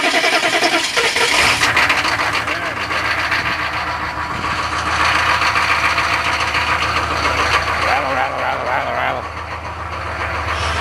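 A vehicle engine with a noisy fuel pump starts and then settles into a loud rough idle, close by and continuous, with a rattling racket running through it.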